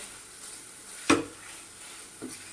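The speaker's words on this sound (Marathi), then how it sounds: "आणि एक वाटी खवा घेतलेला आहे तर आता तो पण चांगला गरम करून घेऊया एकदम मध्यम गॅसवरती आपण चांगल्याला भाजून घेऊया" Khoa (mawa) roasting in a pan over a medium gas flame, heard as a soft, low sizzle with one sharp scrape or clink of a spatula midway and a fainter one near the end.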